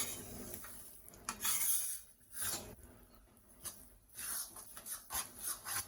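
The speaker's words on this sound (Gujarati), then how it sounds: "એક સાઈડ આપણો લોટ શેકાઈ રહ્યો છે" Flour for Gujarati adadiya pak roasting in a pan and stirred with a spatula, close scraping and rubbing strokes in an uneven rhythm, with quiet stretches between the strokes.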